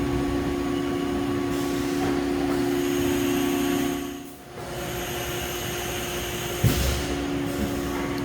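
A Haas UMC-750SS 5-axis CNC machining center runs with its spindle near 15,000 RPM, giving a steady high whine over broadband machine noise. The sound dips briefly around the middle, and a short clunk comes near the end.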